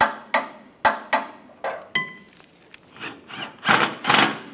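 Ratcheting and clicking while the fuel pump bolts are tightened on a 1996-2002 Toyota 4Runner, starting as a few sharp separate clicks and then running into quicker scraping bursts, close up and with no talk.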